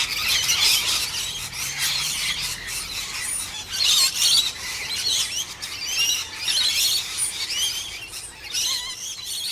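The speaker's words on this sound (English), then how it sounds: "Today, you will learn about rainbow lorikeets." A flock of rainbow lorikeets screeching and chattering, with dense overlapping shrill squeals and raspy calls continuing throughout, loud and close with no voices.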